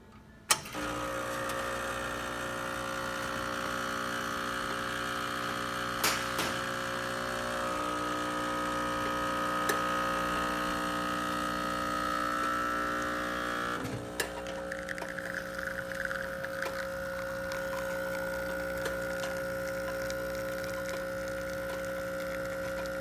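An Expobar espresso machine runs on a test after a tune-up, giving a steady pump hum with faint ticks and a brief shift in tone partway through, alone without talk.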